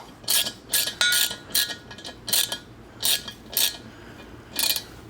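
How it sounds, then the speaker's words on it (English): A short ratchet turns a Monster Valve Tap2 valve tap. About nine quick bursts of sharp metallic clicking come close and clear, separated by brief pauses, with no voices. "it's a short ratchet. You do not need a lot of pressure."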